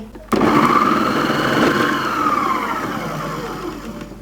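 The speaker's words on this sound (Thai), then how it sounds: "หลังจากที่เราปั่นหอมกับกระเทียมเสร็จเรียบร้อยแล้ว" An electric blender whirs as it purées shallots and garlic. The loud motor switches on abruptly and holds a steady high whine that slowly fades and lowers over a few seconds, with no talking.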